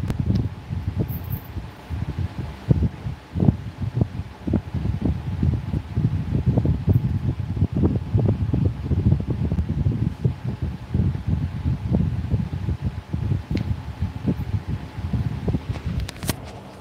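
A faulty air cooler that is not dripping water runs its fan with a continuous, fairly loud whooshing rumble and fluttery low texture that persists throughout without talk.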